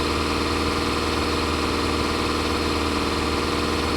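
Steady, even idle of a tractor engine in Farming Simulator 25, a constant low rumble with a faint vibrating hum that holds unchanged throughout, with no talking.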